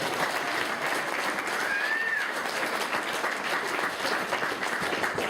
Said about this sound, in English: Oh, please don't clap.